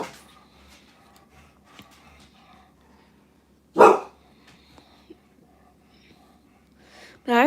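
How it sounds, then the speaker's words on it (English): Next-door neighbor's dogs outdoors, two loud sharp barks several seconds apart standing out over a quiet background with faint whispery sounds. "The next door neighbor's dogs are out."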